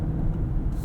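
Audi SQ8 4-liter twin-turbo V8 producing a muted, steady low rumble from inside the cabin while driving, brief and even in loudness.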